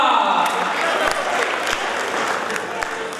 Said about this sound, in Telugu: మీరు గట్టిగా చప్పట్లు కొట్టాలని కోరుకుంటున్నాను.